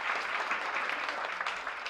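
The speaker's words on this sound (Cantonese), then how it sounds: "俾啲掌聲自己啊" Dense, even applause from an audience of several hundred people fills a lecture hall, loud and continuous throughout.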